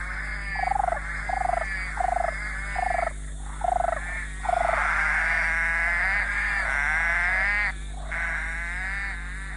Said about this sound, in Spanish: La rana verde de ojos rojos gasta una cantidad enorme de energía intentando atraer pareja para aparearse.